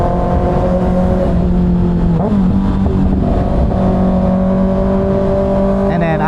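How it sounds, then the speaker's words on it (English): A loud 2024 Kawasaki ZX6R motorcycle cruises on the freeway, its engine droning steadily near and close throughout, with a brief pitch shift as the rider changes speed and surrounding traffic noise faintly behind. "I have a pretty loud motorcycle"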